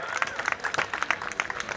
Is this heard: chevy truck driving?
no